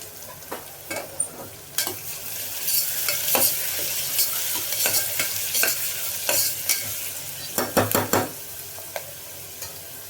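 Onion and curry leaves sautéed in a hot pan for a meat curry, a steady sizzle under repeated sharp scrapes and knocks of a spatula, clustering into a quick run of strokes near the end.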